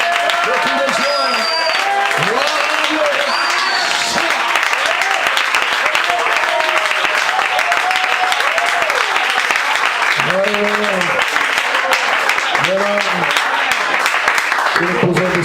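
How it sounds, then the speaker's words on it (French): A church congregation cheers and applauds at length, dense clapping mixed with excited voices and shouts, including a few rising whoops, all loud and close. "poussons les acclamations"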